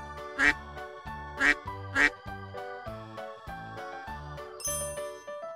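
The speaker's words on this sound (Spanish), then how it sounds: "Papá pato." Three sharp quacks from a male duck ring out over a bright, tinkling music-box melody, followed by more chiming notes.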